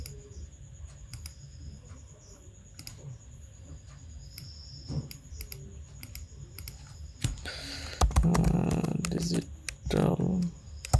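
Rapid clicking keystrokes on a computer keyboard as text is typed, light and close at first, with someone speaking over the later typing.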